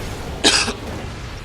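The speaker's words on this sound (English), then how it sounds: "apologies for the coughing" A single short, sharp cough from a tournament commentator with seasonal allergies bursts out against quiet background hiss.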